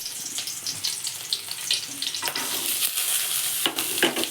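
Masala with cumin fries in a little oil, giving a steady crackling sizzle punctuated by irregular stirring clinks and scrapes, close and moderately quiet, with no talking.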